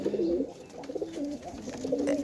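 A young Teddy pigeon coos in low, rolling phrases at close range, several calls in a row with short breaks and no one talking.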